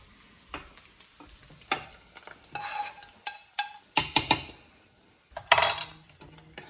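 A turmeric and coriander tempering sizzles as it is stirred into tomato dal, with a spoon scraping and clinking against the pot in irregular bursts over a low frying hiss.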